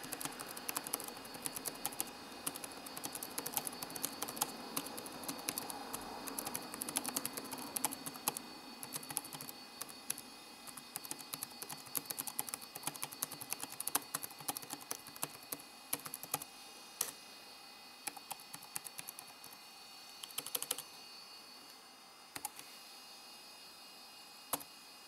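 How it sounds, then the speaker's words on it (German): Fingers type on the clattery, short-travel keyboard of an old IPC Lifestyle notebook, a steady run of soft rapid key clicks, close and quiet, over a low electrical hum, with no talking. "man kann darauf selbst mit großen Fingern problemlos tippen und man erwischt die Tasten fast immer"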